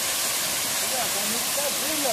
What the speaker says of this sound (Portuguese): Chegamos na cachoeira aqui.